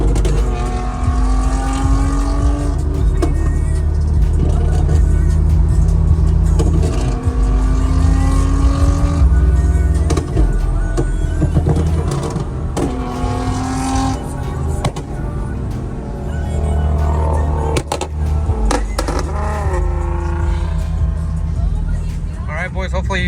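A loud car engine roars and revs steadily, with the exhaust popping and crackling as it shoots flames, while people talk and shout over the noise throughout.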